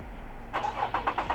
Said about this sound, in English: So when I turn the car on right now,